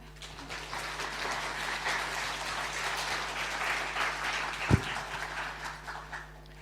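Church congregation clapping during a Sunday worship service, a broad steady wash of applause from a large room, sustained for several seconds at moderate distance with an electrical hum underneath.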